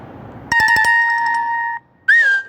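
A LINE app incoming-call ringtone plays a bright, repeating electronic melody, starting with a quick burst of beeps, then pausing briefly before a short chirp sounds again.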